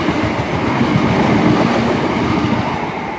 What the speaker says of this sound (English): passing through now is a service to Birmingham New Street from